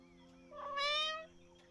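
A cartoonish cat meows once in the video game Copycat, a rising and falling harmonic mew over a steady low game hum.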